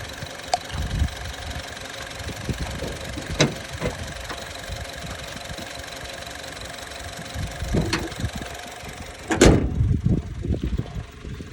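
A Honda Amaze car with 60k driven runs steadily after a carbon cleaning treatment, giving a continuous idling drone with occasional knocking ticks and a louder rough burst near the end.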